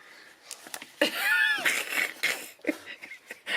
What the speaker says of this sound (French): Un duel de chat.